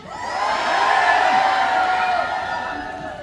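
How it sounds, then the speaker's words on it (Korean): A crowd at the opening ceremony of the Yeongdong Grape Festival in Korea cheers and shouts, a loud swelling roar of many voices with whoops that rises, holds and slowly fades. "우리 영동 국민 여러분들 함성 소리 한번 들어보겠습니다"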